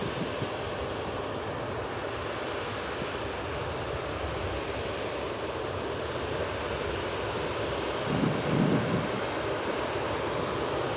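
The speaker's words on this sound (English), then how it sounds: "Here's the Emirates A380 though." An Emirates Airbus A380 airliner at Manchester Airport, a continuous loud jet engine roar heard from a distance, with wind buffeting the microphone and a brief low rumble near the end.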